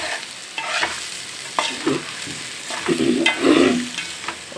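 Ivy gourd masala curry fries in a pan while a spoon stirs it, giving a sizzling hiss with repeated scraping strokes that grow busier toward the end.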